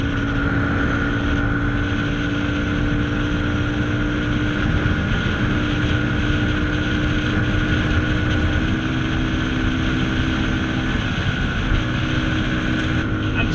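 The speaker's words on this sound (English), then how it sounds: "I'm happy by the fact that even with the pillion, this bike is pulling very nicely." Yamaha FZ25 motorcycle climbing uphill with a pillion, a steady loud engine drone with harmonic tones holding throughout under heavy wind rush, no voices.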